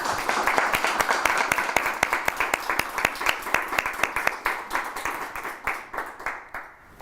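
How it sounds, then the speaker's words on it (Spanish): An audience at a contemporary art museum event in Madrid claps for the guests, with distinct hand claps in a brisk, fairly sparse rhythm that thins out and fades toward the end. "un caluroso aplauso para nuestros invitados"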